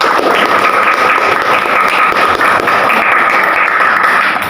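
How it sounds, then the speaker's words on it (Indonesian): Students in a classroom applaud a discussion group after its presentation on tajwid rules, a dense, steady clapping that runs loud and unbroken for a few seconds. "Tepuk tangan untuk kelompok 1"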